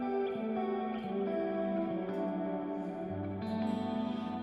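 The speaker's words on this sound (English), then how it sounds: "That's the Plex delay, which is a reverb, actually." Guitar played through an H90 Dark pedal on its Plex delay, a shimmering reverb setting: sustained, washed-out chords with a long, echoing ambient tail that fills the whole passage, and no voice over it.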